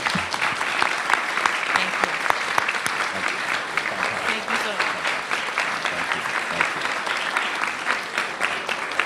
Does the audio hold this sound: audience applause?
yes